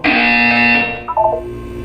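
A harsh electronic buzzer from the video game Portal 2 blares loudly for about a second, then fades into a short wavering electronic tone.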